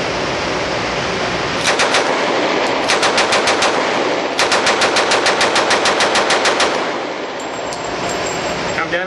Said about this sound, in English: we have an Ithaca model M3-A1 grease gun, 45 ACP